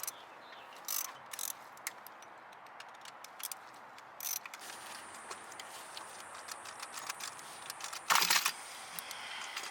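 Bolts being removed from the oil filter housing of a 2011-2017 Dodge Charger 3.6 with a ratchet, scattered sharp clicks and metallic ticks, quiet overall with a louder clatter near the end.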